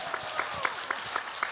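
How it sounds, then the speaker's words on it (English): An audience at an Asian American activism gathering in New York City applauds, a brief, moderate patter of clapping from a modest crowd. "you could give that applause."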